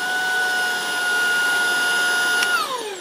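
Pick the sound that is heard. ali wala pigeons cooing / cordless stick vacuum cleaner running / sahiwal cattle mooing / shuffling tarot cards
cordless stick vacuum cleaner running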